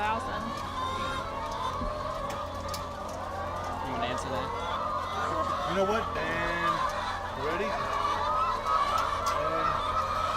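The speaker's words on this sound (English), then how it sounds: "these birds are happy in this house" A poultry house holding about 15,000 birds gives off a steady, dense murmur of fowl calls and clucks, with people talking over it throughout.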